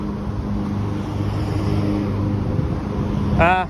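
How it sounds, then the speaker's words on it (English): A car approaches and passes along a residential street, its engine rumble swelling steadily and loud up close; a person speaks briefly near the end. "there's another car coming, so maybe we should wait"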